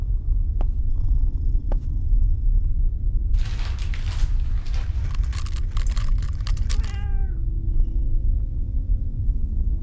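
A cat in a treasure hunting horror game purrs with a deep, steady, close rumble throughout, broken midway by a harsh caterwauling burst that trails into a falling meow.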